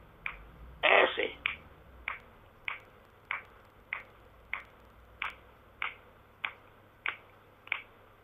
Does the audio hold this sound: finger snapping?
yes